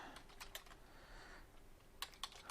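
Quiet typing on a computer keyboard in a small cluster of soft key clicks, a few taps early and two sharper ones near the end, with no voices.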